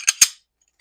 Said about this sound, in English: Barrel goes back together.